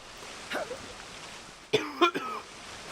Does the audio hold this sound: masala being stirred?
no